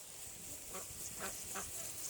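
Muscovy ducks give three or four faint, raspy quacks at a distance, spaced about half a second apart over a steady hiss of background noise.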